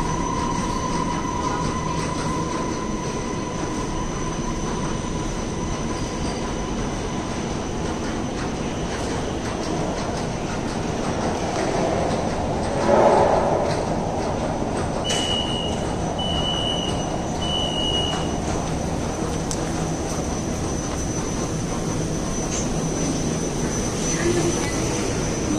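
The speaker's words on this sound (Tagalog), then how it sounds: "So ayun yung isang tren." A Kuala Lumpur train rumbles steadily close by, with a constant low roar, a brief high squeal of wheels midway and faint chime-like tones.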